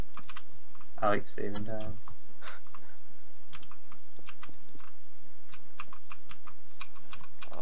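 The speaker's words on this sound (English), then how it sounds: "your keyboard's very loud" Rapid keyboard typing clatters steadily throughout, up close and fairly loud, with a person speaking briefly near the start.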